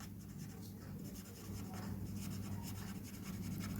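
Steady scratching and rubbing of writing on a board during a maths lecture on topology, a close, continuous scraping stroke sound over a low background hum, with no speech.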